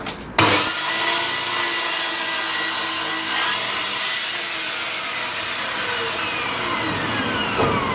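A hand saw cuts off a piece of wood with steady back-and-forth rasping strokes, close and continuous for several seconds with no talking.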